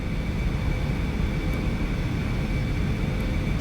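Steady, even roar of an Aerobask Eclipse 550NG jet engine being throttled back in a flight simulator, a constant broadband rush with a faint high whine and no break.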